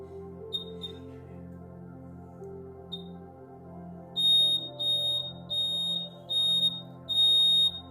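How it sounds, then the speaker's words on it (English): A laser security alarm model at a school science exhibition sounds a run of five loud, evenly spaced electronic beeps over a steady low hum, after a few fainter chirps earlier. "When a thief will try to jump upon the wall and enter the house, it will make a buzzing sound"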